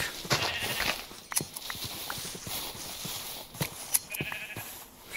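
In Minecraft, sheep bleat in several short, bright cries over rhythmic clip-clop steps and scattered game noises, fairly close and steady throughout.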